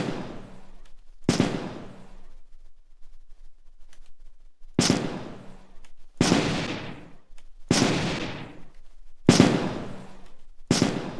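An orc gunslinger's gun fires in the ToME: Embers of Rage video game, with about seven loud, booming shots spaced irregularly, each one decaying briefly over a quiet background, no talking.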